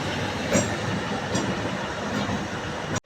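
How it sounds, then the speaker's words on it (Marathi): A DEMU train rolling past a station platform on the Srinagar–Katra line, a continuous loud rumble of wheels and carriages with faint rhythmic clatter, ending abruptly. "Demo train."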